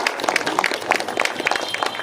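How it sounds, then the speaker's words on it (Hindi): A crowd at a community blanket-distribution event in Lasda Mau applauds, a brisk patter of scattered individual claps repeating quickly and evenly for a couple of seconds, fairly close. "तालियां"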